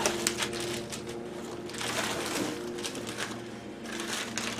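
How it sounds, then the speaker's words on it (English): A steady lawnmower engine drone hums in the background throughout at moderate level, with small clicks and rustles of a package being opened on top; no talking. "Apologize for the lawnmower in the background."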